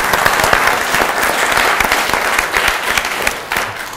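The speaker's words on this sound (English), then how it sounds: "So I'd like to give you a round of applause for that first." Applause for a retiring organ donation nurse at a hospital members' event, a lively burst of clapping from a seated audience with distinct individual claps audible in the mix, tapering off near the end.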